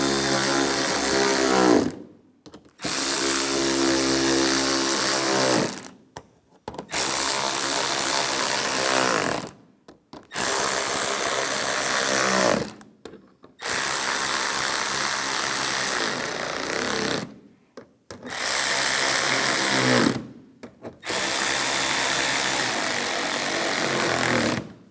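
A power tool tightens front bumper bolts on a 2015-2019 Lincoln MKC in loud repeated bursts, roughly six runs of several seconds each separated by short silences, whirring and rattling up close.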